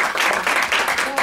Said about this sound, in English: So give her another huge round of applause.